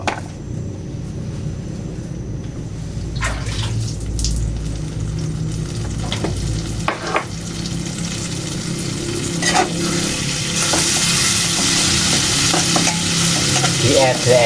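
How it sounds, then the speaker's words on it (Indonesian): Sambal frying in oil in a pan, sizzling steadily while it is stirred with repeated scraping strokes, the sizzle building louder toward the end. "nek goreng sambel niku nggih diedrek ngeten iki."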